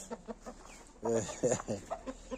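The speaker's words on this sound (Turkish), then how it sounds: "küllü horozumuzu da aşağıya indirdik aşağıya indirdik" An ash-grey rooster clucks in short, evenly spaced bursts close by, then gives a louder, drawn-out run of calls, with a voice mixed in during the second half.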